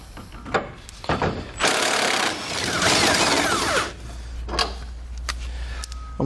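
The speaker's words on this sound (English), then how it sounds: "Now, I'm going to remove one side. We use an 18mm socket." Impact wrench or ratchet with an 18mm socket backing out a vertical bumper bolt on a 2016 GMC Sierra pickup, heard as bursts of close, loud mechanical whirring and rattling with short pauses between.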